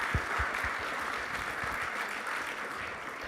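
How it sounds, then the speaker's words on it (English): A congregation audience at a Temple Jeremiah event claps in a steady, dense round of applause for the staff, with a few sharper close claps near the start. The clapping holds at an even level throughout, with no talk over it. "So a round of applause for you."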